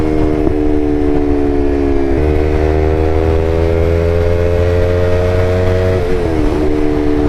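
Yamaha R3 motorcycle with an M4 full exhaust riding at steady speed, a loud, close engine drone that holds its pitch, with shifts in tone at two points, rising slightly between them, and no talking.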